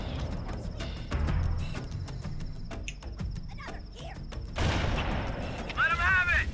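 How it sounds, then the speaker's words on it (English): Loud gunfire in Halo: Combat Evolved, a busy sequence of sharp shots and bursts against a steady battle din, with a brief electronic alert-like chirp near the end. "Kinda hard to have the element of surprise when your gun is super loud"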